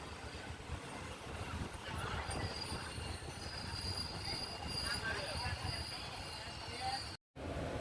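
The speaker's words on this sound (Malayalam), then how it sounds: "തിരുപ്പറം കുണ്ട്രം റെയിൽവേ സ്റ്റേഷനിൽ നിന്ന് നമ്മുടെ ട്രെയിൻ എടുത്തിരിക്കുകയാണ്" Madurai–Guruvayur Express pulling out of Thiruparankundram station, a steady rumble of railcars with wheel squeal and faint high screeching, held at a constant level with a brief dropout near the end.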